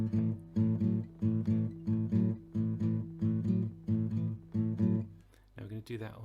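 A blues guitar repeats a two-string shuffle pattern at speed, a steady rhythmic chugging of evenly spaced strummed pairs, close and clear, ending with a brief scrape of the strings.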